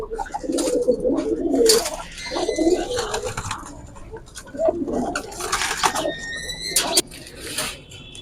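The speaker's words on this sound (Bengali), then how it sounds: "এগুলো কিসের বাচ্চা মানে কি কবুতরের বাচ্চা" Fighter pigeons, including silver fighter young, cooing in a loft. Repeated soft, throaty coos and rolling calls sound close by, with scattered sharper squeaks and rustling throughout.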